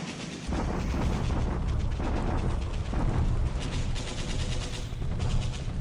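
An artillery bombardment in a WWII strategy video game, with loud, continuous rumbling blasts and dense crackling impacts that layer over each other for several seconds.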